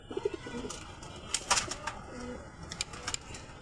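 Pigeons kept at home coo softly in the background, low rolling calls mixed with brief sharp clicks and rustles, faint and fairly distant.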